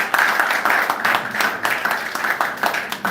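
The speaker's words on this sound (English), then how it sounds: "Please, a round of applause for him" Dense audience applause for a keynote speaker's son at a pharmacists' event, a steady crowd clapping that fills the room throughout.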